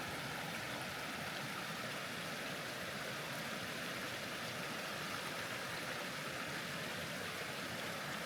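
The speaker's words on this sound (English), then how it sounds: "Pretty little set of cascades there" Small cascades tumble along a creek in Miller Canyon near Hunter Creek, Idaho, making a steady, even rush of flowing water with no talk or other sound over it.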